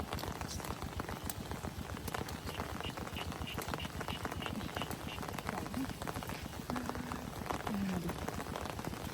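Steady rain patters on a field hut in the rice paddies during an evening meal, a dense, constant drumming of drops that fills the whole stretch, with a few faint voices in the background.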